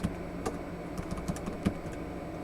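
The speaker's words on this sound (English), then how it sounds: "we're going to type in help" Computer keyboard keys being typed in a short burst of scattered clicks, close and fairly quiet, with no voices.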